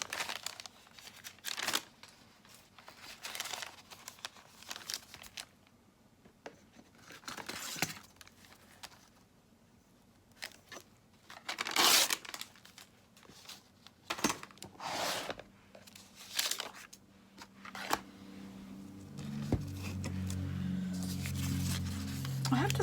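Paper crinkling and rustling in intermittent bursts close by, with quiet pauses between, then a low rumbling drone building toward the end.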